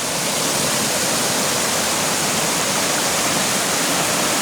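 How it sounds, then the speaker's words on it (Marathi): Strong rushing water roars steadily and loud throughout, a dense continuous wash of spring water flowing at the foot of a hill in Konkan, with no voices. "पाण्याचा झरा किती जोरदार प्रवाहाने वाहत आहे"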